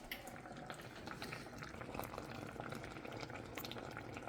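Pumpkin pieces simmer in a pot of boiling water, a steady dense bubbling and popping that stays even throughout, close and fairly quiet, with no talk.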